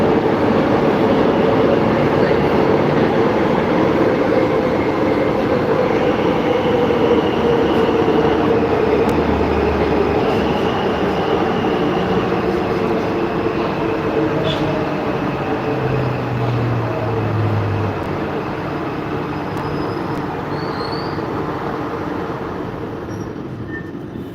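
Warsaw metro train on Line 1 running steadily underground, a loud continuous rumble of wheels and motors with faint squeals, easing slightly toward the end, no talk.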